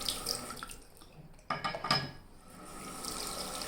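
Tap water running into a sink while a razor is rinsed, splashing close by with a couple of sharper bursts as the blade passes under the stream, no talking.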